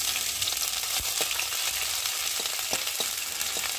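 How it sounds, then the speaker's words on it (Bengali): Ginger frying in hot oil with bay leaf and fennel seeds for a lentil dal, giving a steady close crackling sizzle with scattered sharp pops and light stirring, and no voices. "আদাটা একটু ভালো করে ভেজে নেবো"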